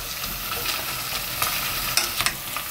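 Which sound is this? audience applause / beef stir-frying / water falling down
beef stir-frying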